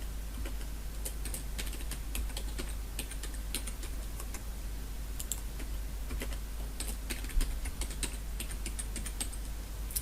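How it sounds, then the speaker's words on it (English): Steady keystrokes on a computer keyboard while a password is entered during an Active Directory server setup, light irregular clicks over a constant low hum, with no one talking. "So I'm going to go ahead and type in a password."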